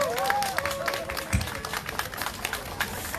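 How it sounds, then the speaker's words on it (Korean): Audience applause at a lunchtime concert by a Cheongju city officials' band, rising into a loose patter of claps with a few whoops and bright whistle-like tones over the crowd for about three seconds. "고생해주신 의원님께 다시 한번 큰 박수 부탁드리겠습니다"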